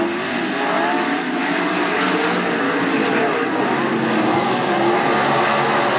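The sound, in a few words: 410 sprint cars racing at Attica Raceway Park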